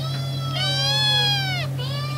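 Kittens meowing in a veterinary clinic: several clear, high, drawn-out meows close by, one after another, over a steady low electrical hum.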